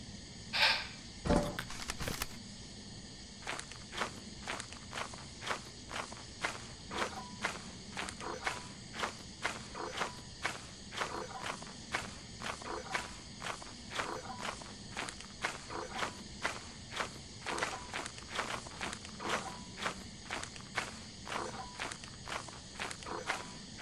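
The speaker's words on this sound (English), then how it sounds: "I heard the footsteps outside." Footsteps in the Lethal Company video game tread steadily and rhythmically for the whole stretch, fairly quiet and regular, with a faint insect-like background hum and no talking.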